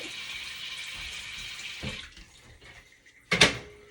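Kitchen sink tap runs with a steady hiss of water for about two seconds, then shuts off, followed by a short loud splash or clatter near the end.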